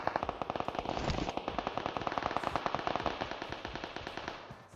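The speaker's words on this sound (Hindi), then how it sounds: "अब उधर गोलियां चल रही हैं धक्का पेल करके" Machine gun fire rattles in long, rapid continuous bursts in PUBG Mobile, loud and close, with the shots evenly spaced and barely pausing for the whole stretch.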